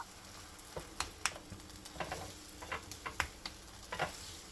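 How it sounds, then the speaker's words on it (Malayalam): Leftover rice mixture being stirred with ghee in a frying pan, with a steady low sizzle and irregular soft scraping taps of the spoon against the pan, fairly quiet and close, with no voices. "ഇനി പാനിൽ നിന്ന് വിട്ട് വരുന്നത് വരെ കൈ എടുക്കാതെ ഒന്ന് മിക്സ് ചെയ്ത് കൊടുക്കാം കേട്ടോ"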